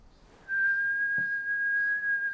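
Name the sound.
man whistling sharply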